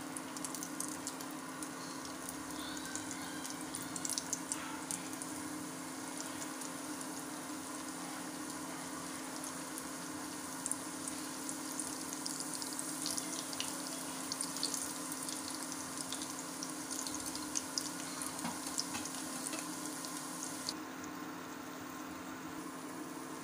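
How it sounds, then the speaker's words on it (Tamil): Potato garlic rings deep frying in hot oil, a steady dense sizzle and crackle that runs continuously and fairly loud throughout with no talking. "இப்போ நம்ம செஞ்சு வச்சுருக்கிற ரிங்ஸை ஒவ்வொன்றா இதில் போட்டு பொரிச்சு எடுத்துடலாம்."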